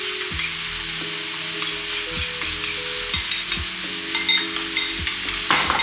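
Steak being mixed with Worcestershire sauce in a pan makes a soft sizzle under repeated scraping and stirring strokes, with a louder clatter near the end.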